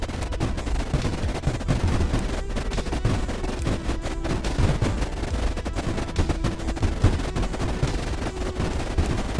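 Dense, rapid barrage of cannon fire in the strategy game Creeper World IXE, sharp repeated blasts crackling continuously at close range with no talk.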